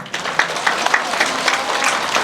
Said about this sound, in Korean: 여러분 계속해서 큰 박수 보내주시기 바랍니다.